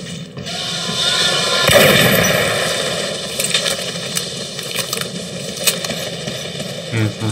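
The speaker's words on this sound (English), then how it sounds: "right click fires two bullets at once" A double-barrelled shot from a gun in the Metro 2033 Redux video game: a loud, rolling blast swells and fades, then a few sharper cracks follow over a humming, droning background.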